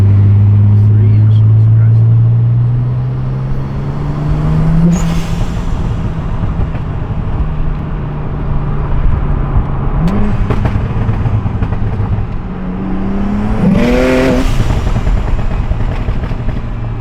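A BMW 335i with a big turbo revs in short bursts, its engine note climbing and falling several times amid rushing noise, while people talk over it.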